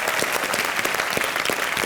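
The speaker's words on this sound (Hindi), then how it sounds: "जोरदार तालियां इनके लिए।" A studio audience on a TV comedy show breaks into loud, dense applause, a steady wash of many hands clapping close to the mics throughout.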